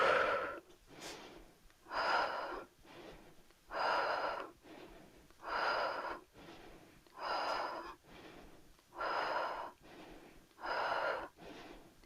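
Slow, steady breaths in and out during a yoga warrior pose, about seven soft even cycles alone in a quiet room, each inhale and exhale clearly audible and close.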